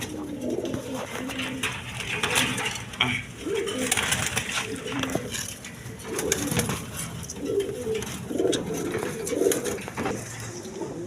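Racing pigeons coo in repeated soft, throaty bursts close by, with faint background voices and ambient noise underneath.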